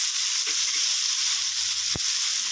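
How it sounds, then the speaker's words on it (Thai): Straw mushrooms stir-frying in oyster sauce give off a steady, close sizzle, with one sharp scrape of the spatula against the pan partway through. "ผัดไปเรื่อยๆนะครับ"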